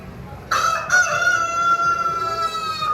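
A rooster of giant breed in Negros Occidental crows once, close and loud: a strained opening note breaks into a long, sustained cock-a-doodle-doo that holds for over two seconds with no talk over it.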